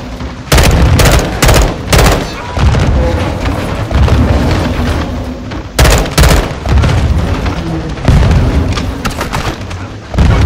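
Grenade blasts and gunfire in the Modern Warfare 2 campaign, with a run of loud booming explosions and rapid overlapping shots that roll on continuously and keep the whole stretch dense and forceful.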